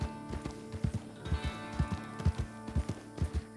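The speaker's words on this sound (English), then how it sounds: "This is one of the cheapo starter horses." A cheap starter horse in Red Dead on the WildRP server trots along with distinct, evenly spaced hoofbeats, close and clear over soft ambient music.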